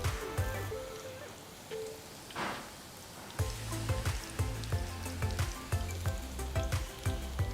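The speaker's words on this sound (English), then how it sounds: "Now gently start dropping the bitter gourd slices into the oil." Bitter gourd slices sizzle and crackle as they drop into hot oil, a continuous fizzing fry with rhythmic clinks and spoon sounds that grows busier partway through.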